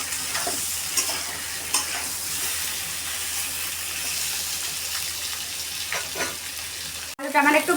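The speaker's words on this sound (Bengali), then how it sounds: "এখন আমি এটাকে লাল লাল করে ভেজে নেব।" Egg and potato pieces fry in a pan with salt and turmeric, a steady loud sizzle with occasional stirring scrapes, ending with a brief break and a burst of louder crackling.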